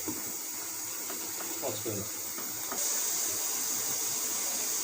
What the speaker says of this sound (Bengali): এখন পরিমাণ মতো ফুটন্ত গরম পানি দিয়ে দিতেছি